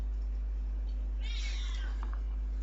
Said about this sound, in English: You can probably hear my cat.